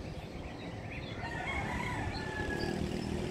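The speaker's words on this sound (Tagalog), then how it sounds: "Habang tumitilaok ang mga manok." Distant roosters crowing in drawn-out calls over steady outdoor background noise at sunrise in Aklan, fairly faint and far off.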